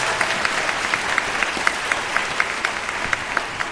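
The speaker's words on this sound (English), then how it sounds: "Can we give them a round of applause" Steady applause from a crowd at a university convocation ceremony, dense clapping sustained evenly throughout without any talking.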